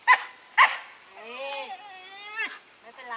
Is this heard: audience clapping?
no